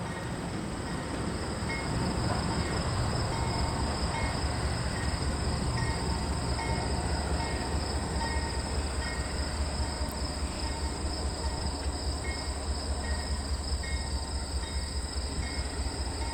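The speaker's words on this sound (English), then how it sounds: "There goes that rock train taking off." A Union Pacific rock train pulls away from a derailment recovery site, a steady low rumble and rolling clatter of cars heard from a distance, with insects buzzing faintly in the background.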